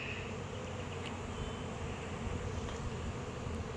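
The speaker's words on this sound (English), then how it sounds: "there's like tons of bees up on the roof and everywhere and all around" A swarm of bees spread over a rooftop produces a dense, steady buzzing that fills the whole stretch, close and continuous with no voices.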